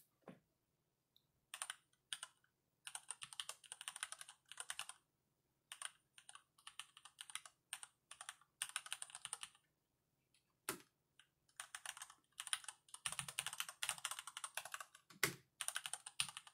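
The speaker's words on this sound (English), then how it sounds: "let me do a typing test real quick" Rapid clacky keystrokes on a Varmilo VA87M mechanical keyboard in steady bursts with short pauses, close and crisp, no talking.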